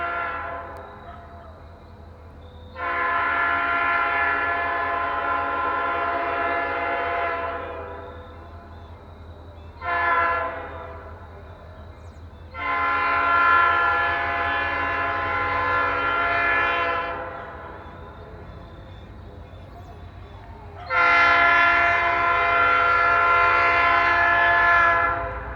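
GE locomotives haul a smoky train up a hill, with a loud train horn sounding in several long blasts and a shorter toot between them, all over a steady low diesel rumble of engines working hard.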